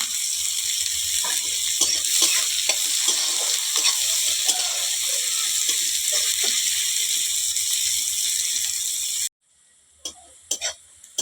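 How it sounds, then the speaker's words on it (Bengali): Onions frying in a pan for a cauliflower curry make a strong, continuous sizzle with frequent crackles and stirring scrapes, then the sound cuts to near silence with a few faint clicks at the end. "পেঁয়াজটা আমি লাল লাল করে ভেজে নেব।"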